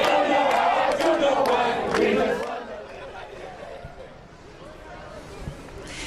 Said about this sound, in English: Earlier, there was an even larger crowd with some pretty loud victory chants.